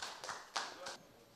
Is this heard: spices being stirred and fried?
no